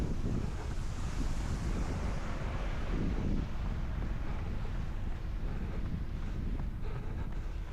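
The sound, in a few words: wind noise on microphone, headwind during a run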